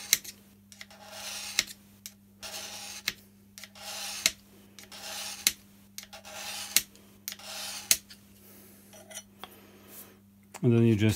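Modified screwdriver scraping oil grooves into Rulon on a Myford lathe saddle, a series of short rasping strokes repeating at a steady rhythm, close and distinct over a low hum.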